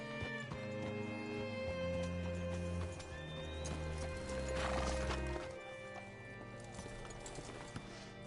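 Horse hooves clip-clop steadily in Red Dead Redemption 2, mixed with a neigh and a low musical score, with the animal close and moderately loud throughout.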